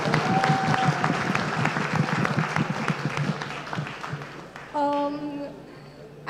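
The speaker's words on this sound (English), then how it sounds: "Round of applause. First-year law student." Audience applause for a first-year law student at a talk on AI-driven law enforcement, steady clapping from a room of listeners that fades after about four seconds, followed by a brief sustained electronic tone.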